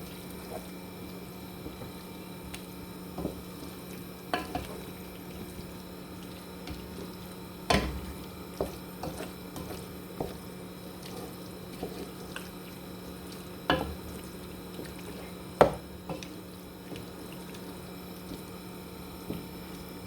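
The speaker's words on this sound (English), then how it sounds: "I'm just trying to mix this to make sure all my cheese has melted." Cheese being stirred into a chicken pasta sauce in a pan, off the heat, giving soft repeated scraping and squishing strokes with occasional sharper clicks of the utensil against the pan, steady and close over a low background hum.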